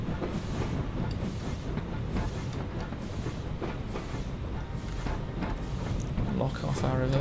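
A steam locomotive on the Embsay & Bolton heritage line in Train Simulator 2020 keeps up a steady rumbling run with rhythmic chuffing and rail clatter. A brief higher tonal sound comes near the end, and speech is mixed in.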